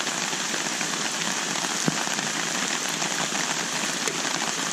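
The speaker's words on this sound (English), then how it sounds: "It's raining." Steady rain patters close by on a tarp, a constant dense hiss with an occasional louder drip.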